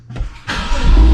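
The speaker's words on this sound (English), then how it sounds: "That GTS startup roar" A BMW F30 engine fires up with a brief crank, then catches into a loud, rising startup roar that holds steady near the end, close and without talk.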